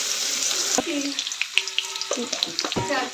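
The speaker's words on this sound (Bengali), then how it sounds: "গাজরটা একটু ভালোভাবে ভেজে নেবো, তারপর সব সবজিগুলো মেশাবো।" Chopped carrots fry in hot oil in a wok, giving a steady close sizzle broken by a few sharp clinks and scrapes of stirring.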